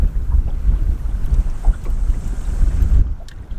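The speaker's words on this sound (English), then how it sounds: "it is quite windy, I suppose" Strong gusts buffet the microphone on the River Stour in Essex during solo boat fishing at a bass competition, a steady low roar of wind noise that drops away abruptly near the end.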